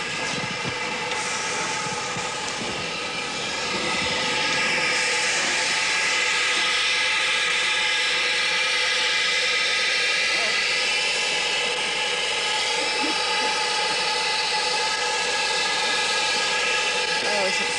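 The early steam locomotive Sans Pareil comes to life as its engine starts, giving a loud, broad, steady roar and hiss that swells after a few seconds and holds close by for the rest of the stretch.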